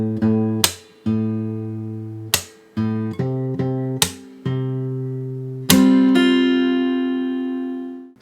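Fingerstyle acoustic guitar plays part of the verse of a song, with plucked chords and single notes struck every second or so and left to ring out, close and clear, with the last chord sustaining.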